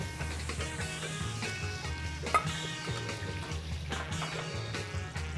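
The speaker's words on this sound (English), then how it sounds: "And then we're going to brown the meat." Meat browning in a pan with sofrito for a meatball sauce, a soft steady sizzle and crackle running throughout with a light clink partway, close and fairly quiet with no talk.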